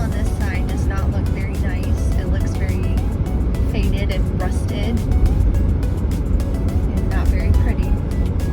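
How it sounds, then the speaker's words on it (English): A car cruises along Mexico's Mex 2 highway beside the border wall, giving a steady rumbling road and engine noise with wind, while people talk over it throughout. "Here we are driving on Mex 2 on the other side of the wall."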